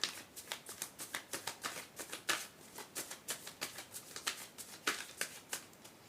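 Tarot cards being shuffled by hand, a rapid, steady run of crisp riffling flicks close to the listener, with no voices.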